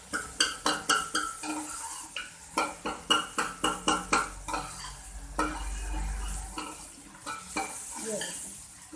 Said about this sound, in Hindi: अब इसके अंदर अपने टमाटर ऐड करेंगे। टमाटर और साबुत मिर्च ये दोनों ऐड करके हम इसे थोड़ी देर पकाएंगे।